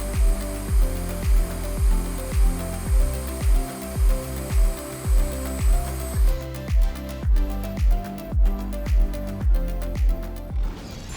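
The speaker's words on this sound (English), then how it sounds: "With a robust motor and precise threading capabilities, it's a must-have for any plumbing project that demands precision and mobility." A portable motorized pipe-threading machine runs with a steady mechanical knock about twice a second, close and moderately loud, and its tone brightens partway through.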